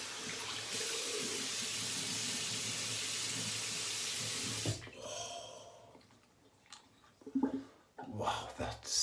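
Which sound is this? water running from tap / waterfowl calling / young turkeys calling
water running from tap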